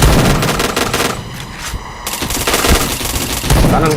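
Gunfire in a shooting video game: loud, continuous rapid automatic fire with dense bursts, briefly easing before resuming at full intensity, no voices heard.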